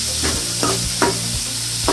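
Sliced onions with salt sautéing in a pan for a Kerala mussels roast, a steady sizzle broken by four rhythmic scraping stirs of the spatula, close up with no talking.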